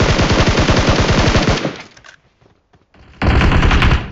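A Thompson submachine gun fires in PUBG Mobile, a loud close continuous burst of rapid automatic shots that stops, then after a short silent gap a second sustained burst starts.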